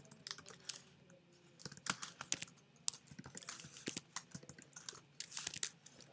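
Rapid, uneven typing on a computer keyboard while writing JavaScript code, quiet clicking keystrokes in irregular bursts with no talking.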